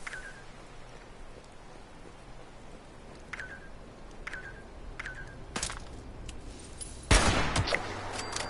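Gunfire in the video game Fallout 76, several sharp shots spaced across a hissing background with a louder burst near the end, no talk heard.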